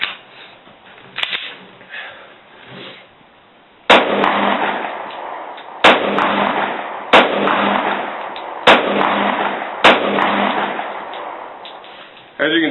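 A Kel-Tec PF-9 9mm compact concealed-carry pistol fires five loud, sharp shots at irregular intervals of one to two seconds, each crack trailing into a long echoing decay, after a quieter stretch of low background noise.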